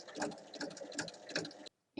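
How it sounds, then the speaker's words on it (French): A sewing machine runs a line of stitching 1 mm from the edge around a fabric bag. The stitching is faint and close, with a quick rhythmic ticking chatter, then stops abruptly into silence. "je vais faire une piqûre à 1 mm du bord tout le tour du sac"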